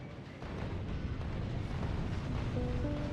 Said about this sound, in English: Let's try the explosive uranium cannon shell.